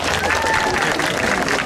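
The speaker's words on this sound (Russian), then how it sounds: "бурные вам аплодисменты," Graduates at a 2022 school graduation in Novorossiysk applaud themselves, a dense, steady burst of clapping from a large crowd that fills the whole moment, with faint voices and tones mixed underneath.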